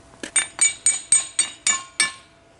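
A solid cast aluminum brick made from melted soda cans is tapped against something, giving seven sharp, ringing metallic clinks in a steady rhythm, each with a short bright decay, close and clear with no talk.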